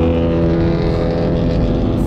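A loud car engine with a rough, farty exhaust note drones steadily at close range throughout, with no talking over it.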